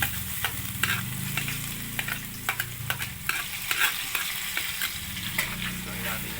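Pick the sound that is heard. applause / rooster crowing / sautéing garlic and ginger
sautéing garlic and ginger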